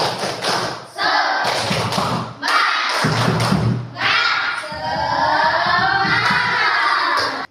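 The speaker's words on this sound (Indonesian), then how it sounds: "mari kita tepuk semangat terlebih dahulu ya" Students in a classroom perform a rhythmic clapping chant with claps, thumps on desks and shouted words in unison, loud and close, breaking into separate bursts with short pauses before a longer sung stretch.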